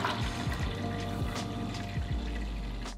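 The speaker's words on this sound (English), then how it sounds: "And I'm going to fill up the rest with water." Water poured into the tank of a Breville Barista Express espresso machine, a steady splashing, gurgling stream, fairly quiet and close, without talk.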